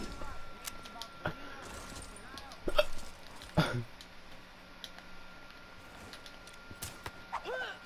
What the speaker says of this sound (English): I can't drive off one of my hiccups